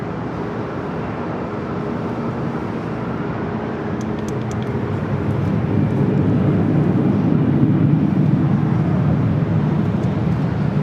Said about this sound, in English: So we will see two Asiana A380 Supers arriving here on the north side